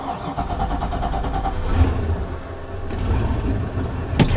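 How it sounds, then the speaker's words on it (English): A 2007 Sea Ray 240 Sundeck boat engine cranks with a rhythmic starter whir, then catches and runs at a rough, rumbling idle, close by, with brief sharp knocks near the end. "All right, we're about to crank her up."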